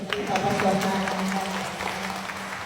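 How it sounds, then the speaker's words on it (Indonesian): A church gathering applauds their pastor, a moderate patter of many hands in a hall with a steady hum and some voices mixed in beneath the clapping. "tepuk tangan untuk pastor kita"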